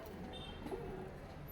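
A Kalsira pigeon coos softly at close range, a few low, faint murmuring calls.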